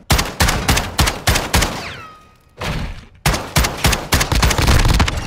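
Shotgun fire in a Search and Destroy match of a shooter game comes as loud, close blasts in a fast, steady rhythm. A short pause with a whirring tone breaks the sequence, then rapid shots resume, with no voices.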